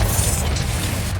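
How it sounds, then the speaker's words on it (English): A deep, rumbling blast from the Confringo spell in Hogwarts Legacy fills the moment, loud and close, with a roaring low-end boom sustained throughout. "Confringo!"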